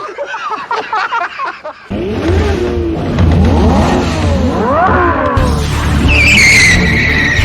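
A Lamborghini revs hard and accelerates with rising engine sweeps, its tyres squealing and skidding loudly throughout, close and dominant with no talk.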